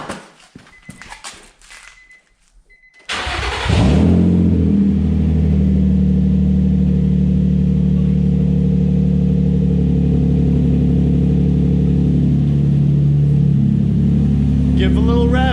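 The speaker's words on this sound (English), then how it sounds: "We gotta start it up now because there's no exhaust on it. Let's see how loud it is." Nissan 350Z with no exhaust fitted fires up after a few seconds of quiet, then settles into a loud, harsh, steady idle with blips of revving, heard close up with voices talking over it.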